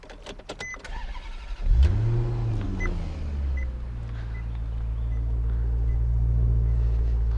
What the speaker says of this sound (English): And I hope you heard that engine here.